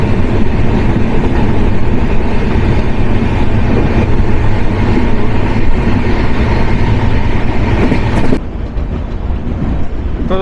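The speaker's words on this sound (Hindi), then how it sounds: "तो दोस्तों यहाँ पे हमारा डिपार्चर होता है रुड़की रेलवे स्टेशन से" The Dehradun Shatabdi Express pulls out of Roorkee railway station with a loud, steady roar of wheels and carriages, heavy low rumble and rattling. Near the end the sound drops abruptly to a duller, quieter rush.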